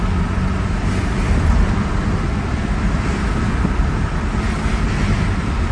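A 1989 Mazda B2600i 4x4 pickup driving in third gear, its engine a steady, loud drone mixed with broadband road and wind rumble, continuous and close, with no talking.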